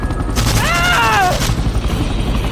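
Gunfire in an audio drama, a burst of shots near a hovering Chinook helicopter, sounds as a loud, dense rumble under steady background noise, with a sweeping tonal whine in the middle of the clip.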